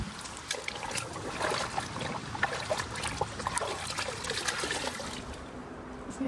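Laundry being rinsed by hand in a bucket of clean water outdoors, with continuous sloshing, dribbling and splashing as the items are swished and lifted.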